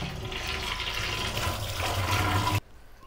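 Washed fish pieces in a colander with water running and draining off, a steady close gush that stops abruptly near the end and leaves near quiet.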